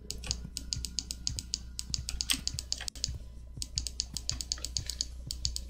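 Rapid, steady computer mouse clicks during a Terraria game, dense rhythmic clicking close up that continues without pause and without talk.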